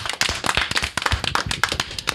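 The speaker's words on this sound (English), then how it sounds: "let's have some applause for our lovely audience tonight." A small panel at a convention forum claps for the audience, with sharp, distinct hand claps rattling irregularly close by, loud and uneven, with no voices in between.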